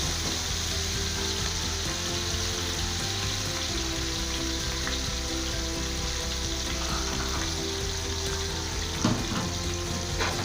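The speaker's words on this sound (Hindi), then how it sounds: "थोड़ी देर फ्राई करेंगे" Ginger garlic paste fries in a pot for chana pulao, making a steady, even sizzle throughout with only a faint clatter near the end.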